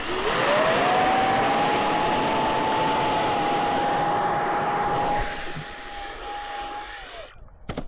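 Electric motor of a model aircraft running at half throttle, a loud steady whine that holds a constant pitch for several seconds before spooling down near the end, heard up close with no speech.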